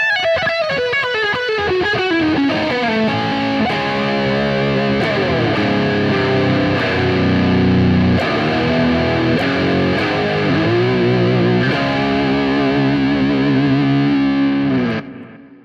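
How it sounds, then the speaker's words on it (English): High-gain distorted electric guitar played on a Strat's bridge pickup, a steady run of chords and riffs through an amp with a subtle effects touch, loud and unbroken for about fifteen seconds before stopping. "But the bridge on this guitar sounds good too."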